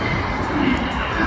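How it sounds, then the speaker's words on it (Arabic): Istanbul metro train at a station, a steady loud rumbling roar of the running train with a broad noisy hum and no clear breaks throughout the brief moment. "وهلا نزلنا من قطار بودي على وادي اسطنبول"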